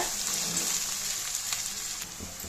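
Onions sauté steadily in hot oil for pepper chicken, a continuous close frying hiss with occasional stirring scrapes and no talking.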